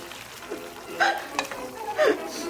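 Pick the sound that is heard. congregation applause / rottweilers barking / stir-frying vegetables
stir-frying vegetables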